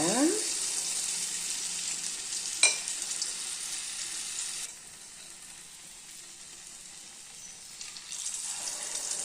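Toor dal kachaayam batter poured into hot oil sizzles loudly and steadily nearby; the hiss dips for a few seconds, then swells again.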